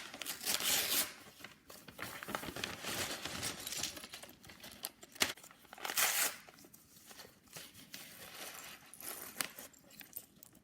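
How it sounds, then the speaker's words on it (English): Paper bags from a LEGO set crinkle and crunch close up, a steady rustling texture with a few louder bursts of handling, no voices. "that sound of the paper bags rather than the plastic ones crunching"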